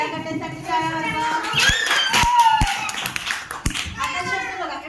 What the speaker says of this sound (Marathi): या गटासाठी टाळ्या वाजवा.